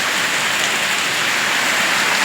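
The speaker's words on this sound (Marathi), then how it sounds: "पाऊस आहे चालू आता बघू किती वेळ पाऊस राहतो वारं नाही आहे पाऊस छान असा चालू आहे" Steady rain falls with no wind, a dense, even hiss of drops on surfaces, loud and unbroken throughout.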